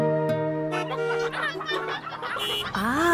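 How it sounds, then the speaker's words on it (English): Chickens from a truck blocking traffic in a cartoon cluck and squawk in quick, close bursts, several birds calling over one another with a low hum behind. "The chickens from the truck are holding up the traffic."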